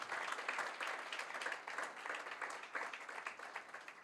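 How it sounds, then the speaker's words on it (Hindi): A congregation at a church service claps loudly and continuously, a dense steady burst of applause with no talking over it. "जोरदार ताली बजाएंगे हम खुदा के जलाल के लिए।"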